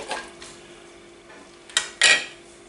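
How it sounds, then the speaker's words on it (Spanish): A spoon stirs fish noodle stew in a cooking pot, making soft scrapes followed by two sharper clinks against the pot near the end, close up and with no talk. "Y removemos"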